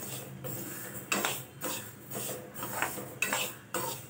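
Seeds being dry-roasted in a pan over low gas, with a utensil scraping and stirring them in irregular strokes and sharp metallic clinks against the pan, close and fairly quiet, no talk.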